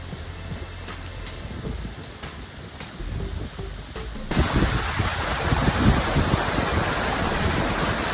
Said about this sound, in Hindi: This is why this fall is named as rainbow waterfall.